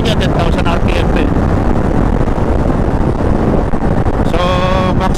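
Kawasaki Ninja 650 motorcycle engine while riding, a loud continuous roar mixed with wind buffeting, a rising whine near the end, and a voice speaking over it.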